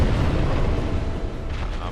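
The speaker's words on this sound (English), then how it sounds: "He's gonna do another explosion." Fiery explosion attack from the Demon Firesage boss in Dark Souls, a loud sustained deep rumbling boom that roars steadily throughout with no talking.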